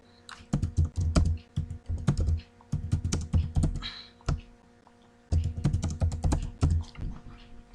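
Close computer keyboard typing in quick bursts of crisp key clicks, with short pauses between runs, as a command is entered; no talk.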